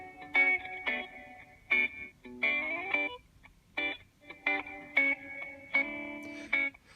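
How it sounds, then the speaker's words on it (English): Guitar notes played through a reverb setting on a Digitech iStomp effects pedal, heard alone as short phrases of chords and single notes with lingering, washed-out tails between attacks. "Here's a nice reverb."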